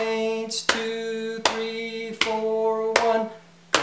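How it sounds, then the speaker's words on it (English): Hands clap sharply, five evenly spaced claps keeping the timing of a sung melody, each ringing over a sustained tone, close and clear. "I'm going to slap my knee or clap my hands for the timing of this thing"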